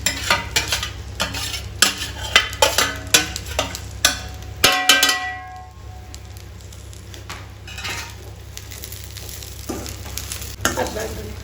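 Onions frying with okra in a pan for bhindi fry, loud sizzling broken by repeated scraping and clinking stirs, then a calmer steady sizzle with a few more spoon knocks near the end.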